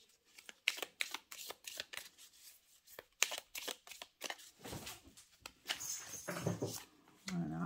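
Petit Lenormand cards shuffled and laid down during a tarot-style reading, with a run of crisp, rapid riffling and flicking taps, then softer sliding and placing of cards, fairly close and quiet, with no talk.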